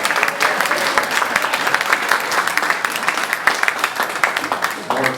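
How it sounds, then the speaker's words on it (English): Applause for choristers at an All Saints parish meeting: a room full of people clapping steadily and loudly, dense overlapping claps with a murmur of voices underneath. "Let's give a hand of applause for these choristers walking through here."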